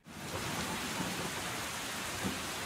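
Steady rain hisses evenly throughout in the X-Plane 12 flight simulator, with soft drops into puddles and no talking over it.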